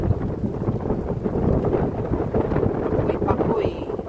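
Strong wind buffets the microphone in a constant heavy roar, with a faint voice partly buried underneath.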